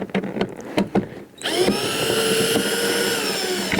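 Power tool driving small screws on the tail light of a 1999–2004 Jeep Grand Cherokee. A few light clicks come first, then a close, steady motor whine that holds until the end.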